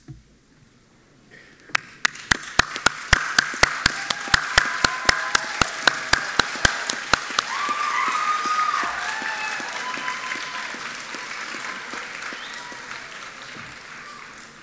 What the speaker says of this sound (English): can I ask graduands please to stand and applaud your family, friends and your teachers.